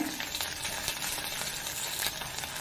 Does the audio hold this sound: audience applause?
no